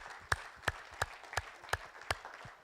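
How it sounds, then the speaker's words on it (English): Slow, sparse clapping from a small audience at a development conference, with about six distinct, evenly spaced claps standing out over a soft background bed of scattered hand claps. "let's clap for him and for his ministry"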